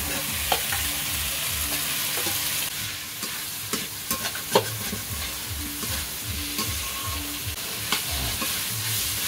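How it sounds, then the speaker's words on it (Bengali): Fried potatoes and prawns with spices sizzle in a pan while being stirred, a steady hot fry overlaid with rhythmic scraping strokes and occasional sharp clinks, close and without talk. "এর মধ্যে আমি আলু, ভেজে রাখা আলু আর চিংড়ি মাছগুলোও দিয়ে দেবো।"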